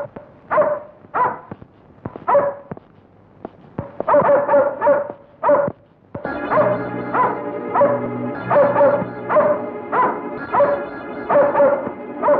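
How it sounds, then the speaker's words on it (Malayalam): A dog in a Malayalam film scene barks repeatedly in sharp, close bursts, with some yips mixed in. The barking grows denser over a sustained musical backing in the second half. "പട്ടി അദ്ദേഹത്തിന്റെ നേരെ കുരച്ചു ചാടി"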